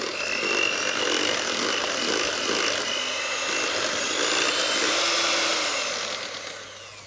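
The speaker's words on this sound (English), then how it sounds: "Now the last thing to do is to whisk that all together." Muffin batter with vanilla bean being whisked, giving a steady, continuous whirring noise that holds at an even level throughout and tapers off slightly at the end, with no voices.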